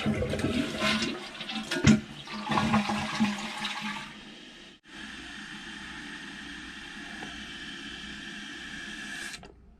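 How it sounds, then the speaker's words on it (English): A running toilet with its tank cover off flushes loudly and close, gurgling water rushing for about four seconds, then the tank refills with a steady hiss until the end. "let's go ahead and flush it since it is full of water and it's adjusted properly and see what it does"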